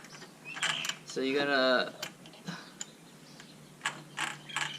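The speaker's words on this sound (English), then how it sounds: "rotate the trimmer head back and forth until you can lock" A Kobalt 80-volt string trimmer head is turned back and forth by hand, giving close, quiet ratcheting clicks and a short burst of rapid mechanical clicking, with someone speaking briefly.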